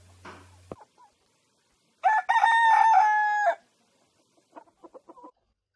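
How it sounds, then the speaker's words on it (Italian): In a small farm henhouse a rooster lets out one loud, drawn-out crow, preceded by a brief rustle and followed by a few soft, scattered hen clucks amid quiet pauses. "nel pollaio con il nostro gallo e le sue galline"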